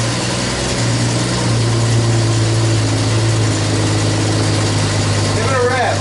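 Car engine from a rusty Renegade idling steadily after a replacement exhaust system was fitted, a deep continuous low rumble held close and loud throughout, with people talking quietly over it near the end.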